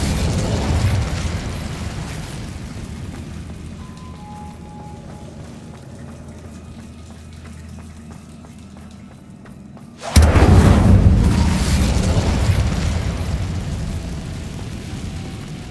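An Incendio fire spell cast in Hogwarts Legacy: a loud, sudden fiery burst and whoosh rises sharply out of a low ambient game background, then roars on and slowly fades.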